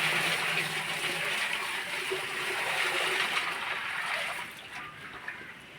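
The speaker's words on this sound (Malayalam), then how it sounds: "അടുത്ത ദ്രവം ഒഴിക്കുകയാണ്" Liquid is poured during preparation of an herbal medicine, a continuous rushing, splashing flow close by that eases off slightly toward the end, with no voices.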